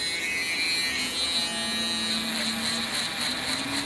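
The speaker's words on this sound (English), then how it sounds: "Now let's hit the shaver." An electric shaver runs steadily throughout a fade haircut, a close, continuous buzzing hum with no pauses and no talking over it.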